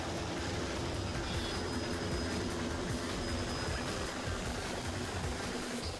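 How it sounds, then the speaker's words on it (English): Helicopter in the video game Devil May Cry 2, a steady loud rotor and engine roar with a rapid chopping pulse throughout. "now there's a fucking chopper"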